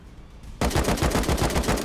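Automatic gunfire in Rust, a fast string of sharp shots that starts abruptly after a quiet lead-in and continues loud and close, with no talking over it.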